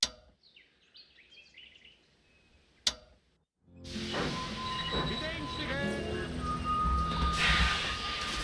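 Trains running in the Sid Meier's Railroads video game, starting with sparse game tones and a sharp click, then a steady loud rumble of rolling rail cars with high wheel squeal and a long sustained whistle-like tone.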